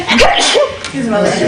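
Someone sneezes once, a short sharp burst, in a meeting room, with a person talking right around it.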